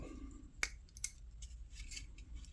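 A pocket knife opened with a thumb hole gives a single sharp metallic click, followed by a second lighter snap about half a second later. The clicks sit close against quiet room background.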